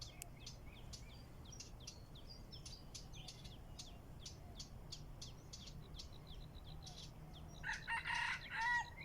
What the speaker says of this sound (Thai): ไก่ป่าแน่นอนครับ